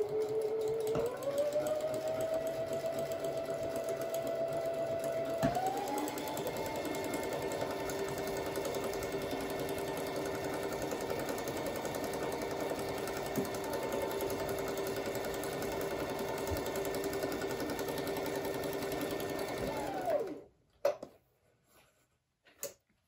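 A sewing machine runs a wide zigzag stitch along a fabric edge, a steady close whirring drone that shifts pitch slightly as it speeds up, holding for about twenty seconds before stopping with a few clicks.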